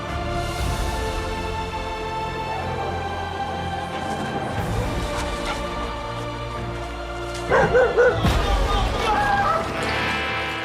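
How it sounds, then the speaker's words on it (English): A loose dog off its leash barks and yips beside a road during a cycling race stage in a French rest-day town, several sharp barks over steady crowd babble and ambient noise, louder bursts near the end. "A dog off its leash, suddenly running in front of you."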